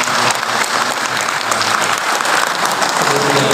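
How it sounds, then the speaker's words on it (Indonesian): Sustained audience applause at an inauguration ceremony for the new PPDI Kendal Regency board, dense and steady clapping filling the room throughout with no break. "kita berikan tepuk tangan kepada seluruh jajarannya"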